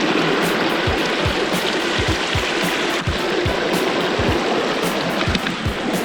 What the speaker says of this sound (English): we made it down to the creek.